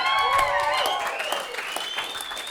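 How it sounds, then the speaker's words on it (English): A stand-up comedy audience breaks into sustained applause, with whoops and cheering that gradually fade. "y'all shouldn't clap for that"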